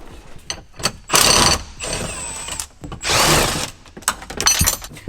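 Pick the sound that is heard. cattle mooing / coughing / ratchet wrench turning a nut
ratchet wrench turning a nut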